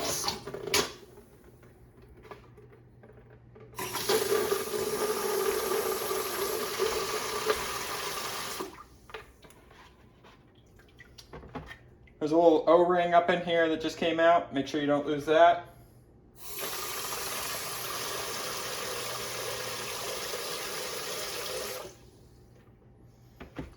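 Water gushes from a newly installed deck-mounted pot filler into a bucket in two long bursts, separated by a pause in which someone speaks over faint background.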